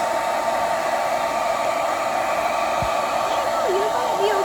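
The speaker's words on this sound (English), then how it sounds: "that's the diffuser on my blow dryer. It's just a normal Revlon blow dryer." A normal Revlon blow dryer with a diffuser blowing on wet puppies after a bath, a constant loud rushing hum of motor and air close by, with a faint voice briefly audible near the end.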